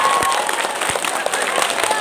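An audience at a humorous Islamic sermon gives steady, dense applause, loud and close, the clapping sustained without a break.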